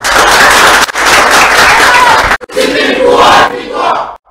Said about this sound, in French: nous fasse vraiment un gros applaudissement